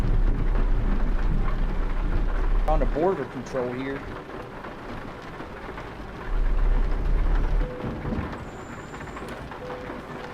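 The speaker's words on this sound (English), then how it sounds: "Raining quite hard here." Heavy rain pours steadily over a truck at a border control crossing toward Denmark in Euro Truck Simulator 2, a loud constant hiss that swells and dips, with someone talking over it.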